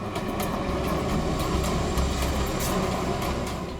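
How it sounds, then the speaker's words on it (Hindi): A local train rumbles past steadily with a broad, continuous roar and faint rhythmic clatter, loud and close throughout. "ये कौन सी ट्रेन थी, लोकल ट्रेन या मेलगाड़ी की आवाज?"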